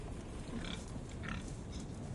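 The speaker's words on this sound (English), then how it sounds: "You can hear our piggies. Oink oink." Pigs in a livestock trailer grunt and oink faintly in a PS5 truck simulation game, a few soft snorts over a constant low hum.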